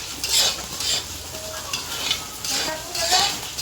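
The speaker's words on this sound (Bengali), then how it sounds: "মাছ জন্য মশলাটা ভাজা করছি" Spices fry in hot oil in a pan for a fish curry, a steady close sizzle with rhythmic stirring scrapes in waves, no talking.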